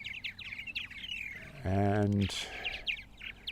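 Purple martins call at a nesting colony on Eastern Long Island, New York, a busy stream of chirps and gurgling twitters close by, broken by a brief low humming burst and a single spoken word.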